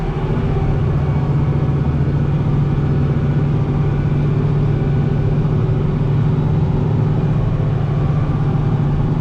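A tractor engine runs steadily while a water line is buried, a loud, continuous low rumble that holds an even idle-like drone throughout, with no voices.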